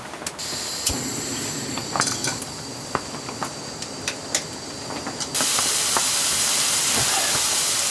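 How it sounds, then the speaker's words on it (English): Meat patties sear in a pan in a rustic cabin, giving a bright crackling sizzle with scattered pops that swells into a louder, steady hiss partway through; no one speaks. "Here are the meat patties. These are my favourite. I'm gonna sear these off"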